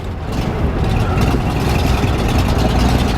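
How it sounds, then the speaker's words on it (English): A Datsun 240C engine running rough on only a few cylinders, with bad exhaust leaks, gives a loud, close, uneven rumbling chug that continues steadily throughout without speech. "it's running on like hardly any cylinders, which is fine"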